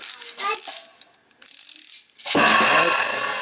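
A ratchet in the rotating ring of a monorail drawer slide clicks in short bursts, crisp and close, with brief quiet gaps between turns and a louder, longer run of clicks at the end.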